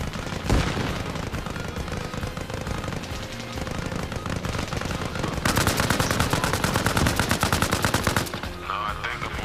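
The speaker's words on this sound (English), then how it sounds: "I gotta find those machine guns." Sustained machine gun fire in the military shooter Arma, dense rattling bursts that run almost without a break and hit hardest in the middle stretch, with distant shots mixed in and little talk.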